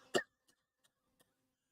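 Voice imitating a dry cough: one sharp, close, throaty burst, followed by three faint, brief clicks spaced evenly apart.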